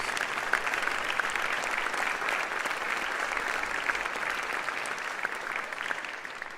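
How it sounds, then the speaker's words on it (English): Audience applause for young student jazz musicians at an ensemble concert, a broad continuous roar of many hands clapping at moderate distance, sustained evenly throughout. "how about a big round of applause for these great young musicians?"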